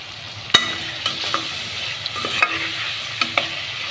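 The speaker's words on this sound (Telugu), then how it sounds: "ఇప్పుడైతే ఒక టమాటా అయితే వేస్తున్నాను" Tomato dropped into a pan of frying onions, green chillies and curry leaves for a bitter gourd pulusu, giving a soft steady sizzle with a few sharp clinks and stirring knocks scattered throughout.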